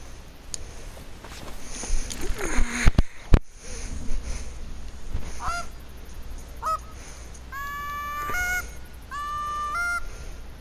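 Geese honking in the hunting game theHunter: Call of the Wild, several nasal honks in bursts from mid-distance, preceded by a couple of sharp clicks and faint ambient rustling.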